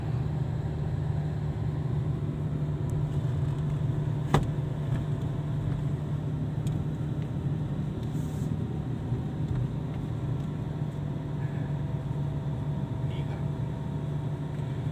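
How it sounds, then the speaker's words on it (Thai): An automatic car climbing a mountain road, its engine holding a steady low drone throughout from inside the cabin, with a single brief click partway through. "ออโต้นั้นกำลังขับเคลื่อนอัตโนมัตินะครับ จะไต่ รอบจะทำความเร็ว ตามกำลังของเกียร์"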